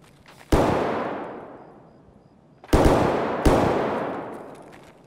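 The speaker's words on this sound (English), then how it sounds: "That sounds like an SKS. That sounds like a suppressed M4." Three loud, close shots of SKS rifle gunfire in the video game Escape from Tarkov, each a sharp crack trailing into a long echoing tail, the first alone and the last two in quick succession, with no voices.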